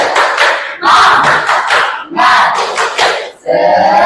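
Students at a school session shout a rhythmic tepuk semangat chant, loud bursts of voices and clapping in several close, energetic phrases separated by short pauses.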